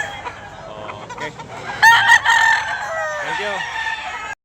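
A gamecock at a cockfighting rooster sale in Tabunok, Talisay crows loudly and close, a clear drawn-out cock-a-doodle-doo preceded and followed by softer clucks and faint background chatter.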